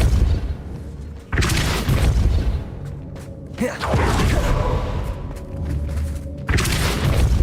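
Depulso spell blasts in Hogwarts Legacy: several heavy, booming bursts break out over a dense, rumbling game backdrop, with loud surges near the start, middle and end, and a voice speaking at times.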